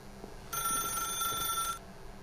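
A telephone rings once in The Stanley Parable video game, a bright electronic bell trill lasting just over a second, clear and fairly close against a quiet room hum.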